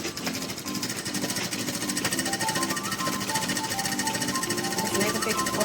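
Sewing machine stitching through a thick woven plastic sack to make a market bag: a rapid, loud mechanical clatter that repeats without a break, with faint background noise under it.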